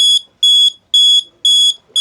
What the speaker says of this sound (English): It's actually setting off the alarm.